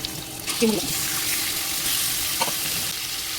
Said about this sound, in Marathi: तेल छान तापलं आहे. आता यात मी ॲड करणार आहे स्वच्छ धुवून